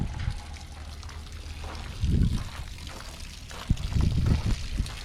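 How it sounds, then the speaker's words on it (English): Fresh water runs through an outboard motor being flushed after saltwater use, a quiet, steady trickle and pour with a few louder splashing gurgles. "Water mixes in with the salt off and ends up flowing through the whole motor."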